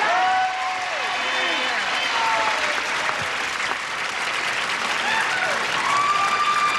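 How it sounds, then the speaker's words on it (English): A studio audience at a 1983 television game show breaks into a brisk round of applause, loud and sustained across the whole stretch, with whoops and voices rising through the clapping. "audience, would you join me in giving a brisk round of applause"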